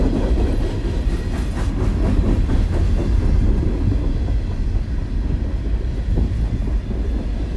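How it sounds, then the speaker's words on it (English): A train rushes past close by during a snowfall, a loud, continuous rumble with clattering wheel noise and wind-driven hiss that stays steady throughout, with no voices. "Right now the train is blowing the snow in this direction, which is pretty brutal."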